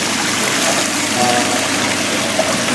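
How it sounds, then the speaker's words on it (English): Tap water runs steadily through filter tubes, a loud continuous rushing and splashing flow with no break, close by. "I can turn the water on when they're ready."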